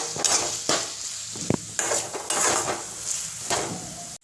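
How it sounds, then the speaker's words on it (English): Onions and carrots fry in a pan while a utensil stirs them, making repeated scraping strokes against the pan over a continuous close sizzle. "Let it turn brown first. Let's keep stirring."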